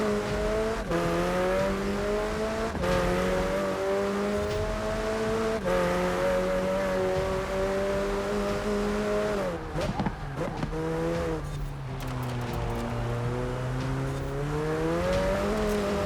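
McLaren 720S supercar accelerating hard on a hillclimb run, its engine note rising steadily through the gears with brief dips at shifts, loud and sustained with some tire noise.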